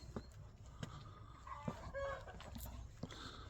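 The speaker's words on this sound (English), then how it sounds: "Chickens over there." Hens cluck intermittently at a moderate distance, a few short calls scattered over outdoor background noise with brief knocks.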